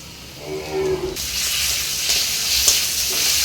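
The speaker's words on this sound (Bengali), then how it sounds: "এখন আমি একসাথে জিরে ধনে আর কাঁচা লঙ্কা একসাথে বেটে নিয়েছি, এখন আমি দিয়ে দেব।" Paste of ground cumin, coriander and green chili hitting hot oil with onions in a pan, bursting into a loud, close sizzle after a brief quieter start, then a steady frying hiss with a faint clink.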